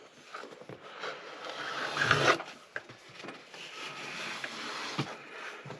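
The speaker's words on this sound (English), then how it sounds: "for these knives, the finishing process is going to be strop them with leather." A knife blade is stropped on leather, a close, quiet series of soft rubbing and scraping strokes that swell and fade irregularly, one louder stroke standing out midway, with no voices.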